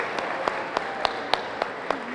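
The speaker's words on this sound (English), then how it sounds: "They're back there clapping." Applause for kitchen staff at a school PTA children's banquet, a soft wash of crowd clapping with a few sharper individual claps standing out, and a faint voice underneath.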